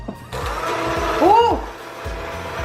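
A small electric hand mixer whirs steadily while Korean waffle kimchi is being made, its motor pitch rising and falling briefly, close by, with people talking over it.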